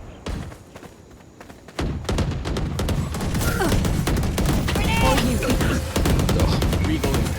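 Rapid video-game gunfire from Smol Towers, dense volleys of shots and thumps that keep up through nearly the whole stretch, loud and close, mixed with game voice effects and a speaking voice.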